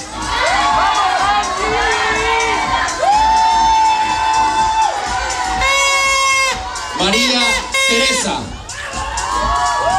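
A crowd at a pageant coronation cheers, whoops and applauds for the third-place finisher, with high children's shouts and excited voices rising over continuous clapping while a name is called out.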